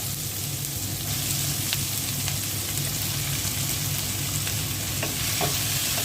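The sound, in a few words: onion and tomato frying in fish-fried oil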